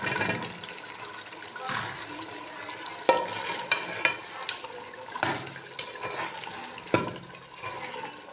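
Tinda gourd is stirred into chicken meat frying in oil, with a soft continuous sizzle broken by a series of scraping, clattering stirs, close and fairly quiet.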